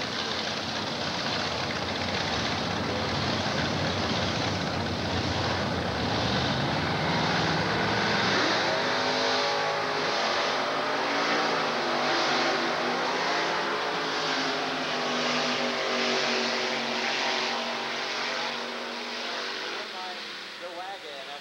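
A dragster and a 1962 Chevy wagon launch side by side at the 1990 Division 4 Finals, Texas Motorplex, their engines a loud, sustained roar that holds steady for about twenty seconds before easing slightly at the end.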